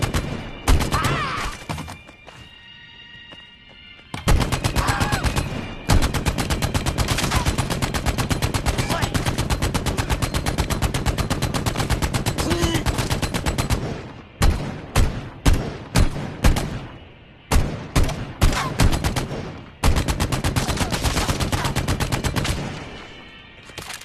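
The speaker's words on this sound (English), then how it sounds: "The MG42. Normally, it takes a team to operate effectively." An MG42 machine gun fires in a video game, with long sustained automatic bursts broken by short stuttering volleys. The shots are loud and close, and a brief quieter lull comes near the start.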